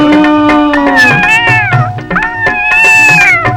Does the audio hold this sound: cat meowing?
yes